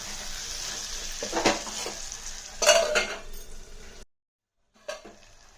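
A spoon stirs chicken curry with tomatoes in a metal pot, giving a few scraping clanks and knocks against the sides over a soft sizzle, then a brief silence and one last clatter.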